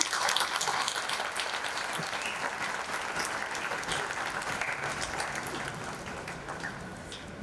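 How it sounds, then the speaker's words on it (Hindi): Steady applause from a sizable crowd at an awards ceremony in Jaipur, continuous and even throughout, heard at moderate distance. "तालियां थोड़ी कम नहीं लग रही?"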